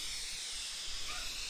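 A spray can hisses steadily in Drug Dealer Simulator, a soft, continuous airy spray lasting about a second and a half with no voices.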